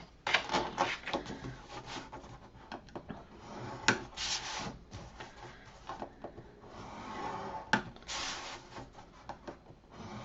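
Paper for a baby folio is scored half an inch in on three sides, with repeated soft rubbing and scraping strokes from a scoring tool, close, quiet and irregular.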